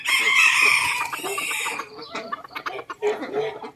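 A bantam rooster of the Tom Tam breed in Khon Kaen crows loudly and close by in one drawn-out call, followed by softer clucks and scratchy rustling.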